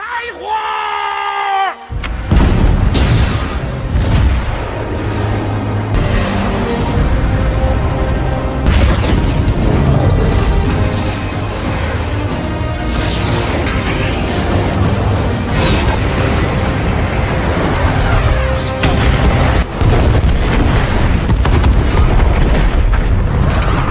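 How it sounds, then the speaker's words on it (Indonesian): Missiles blasting enemies and tanks in the action film Wolf Warrior 2, a long stretch of loud, dense explosions and rumbling booms with screaming and shouting mixed in, a narrating voice over the battle. "mereka pun langsung menembakkan rudal-rudal mereka dan menghancurkan para musuh serta menghancurkan tank-tank mereka."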